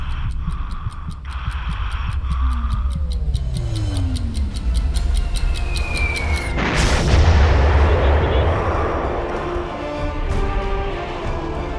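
Dassault Rafale fighter jet firing missiles during a strike: a loud, sustained roaring whoosh with deep rumble, preceded by rapid ticking and electronic tones from cockpit systems, with faint radio chatter in the background.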